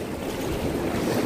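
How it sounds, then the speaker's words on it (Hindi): Fast river water rushing and churning close by in a steady broadband roar, with wind buffeting the microphone. "इतना पानी आ रहा है, पानी का पानी का मजा देखो कितना आ रहा है।"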